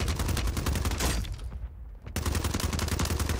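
Rapid automatic gunfire from Call of Duty Warzone on Rebirth Island rattles out in dense, loud bursts with a short lull in the middle.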